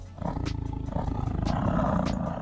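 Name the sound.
tiger roaring in Minecraft video game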